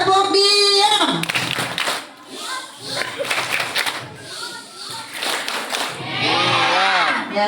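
Children chant a rhythmic clapping game, voices singing in unison with bursts of hand claps between lines, loud and close in a lively group during a daily Ramadan lesson.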